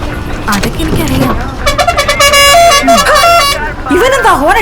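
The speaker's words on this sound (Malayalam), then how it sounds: "ഇവനെന്താ ഹോണടിച്ച് മനുഷ്യനെ കൊല്ലാൻ നോക്കിയേ?" A vehicle horn honks in repeated sustained blasts during a Malayalam film scene, loud and close, layered over people talking before and after.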